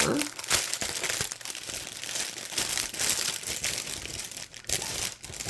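Plastic baggies and paper rustle and crinkle steadily as they are handled up close, a continuous dry crackling texture with no voices.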